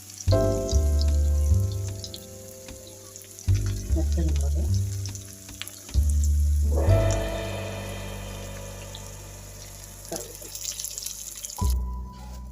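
Onion, dried red chilies and curry leaves sizzle in hot oil for tempering a pineapple pachadi, a loud frying hiss that comes in bursts and settles into a steady crackle.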